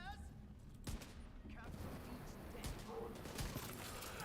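Gunfire in a Division 2 firefight, a dense spread of shots and impacts running across the whole stretch, loud and continuous, with game voices and chatter mixed in.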